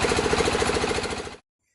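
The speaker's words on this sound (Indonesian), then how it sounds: "selain dari asapnya juga dari suara mesinnya yang bising." A noisy machine engine chugs with a fast, rhythmic, loud pulsing beat close by, then cuts off abruptly into silence just before the end.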